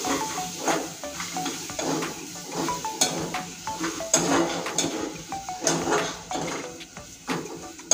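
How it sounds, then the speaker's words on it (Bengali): A spoon scrapes and knocks steadily in a pot of simmering fish curry with potato and papaya, giving repeated close stirring clatter over a low bubbling sizzle. "এবার নেড়ে নেব সুন্দরভাবে।"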